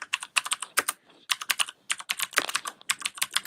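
Quick, close typing on an IBM keyboard from the early 2000s, with crisp clacking keystrokes in fast bursts and one short pause, and no voices.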